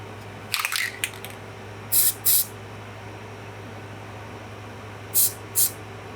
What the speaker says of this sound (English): I put a couple of layers of liquid electrical grease on